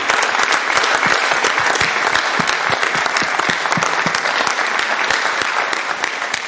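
An audience applauds actor Serge Kaninda, who starred in the film Rebelle, with dense, steady clapping filling the whole stretch at close range and holding loud until a slight easing at the end.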